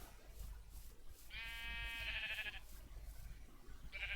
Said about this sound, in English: Noisy sheep.